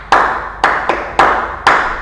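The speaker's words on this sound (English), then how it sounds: "give yourself a round of applause" A single person clapping close by during a maths lesson, four loud separate claps spaced about half a second apart with nothing else heard.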